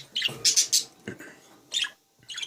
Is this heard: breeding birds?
yes